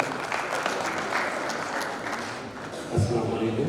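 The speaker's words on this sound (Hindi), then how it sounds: "एक बार जोरदार तालियां" Applause from an audience at a 2022 stage event, spread as a dense, steady patter for the whole stretch, moderately loud, with a slight swell near the end.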